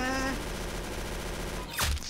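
Rapid gunfire in the Roblox game Arsenal, a dense, loud continuous burst of shots filling the whole stretch, with a sharper louder blast near the end and no clear talking.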